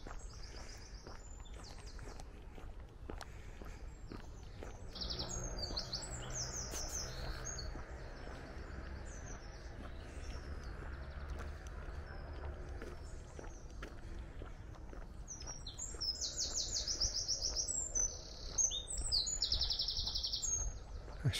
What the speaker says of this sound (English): Usually more birdsong down this little stretch.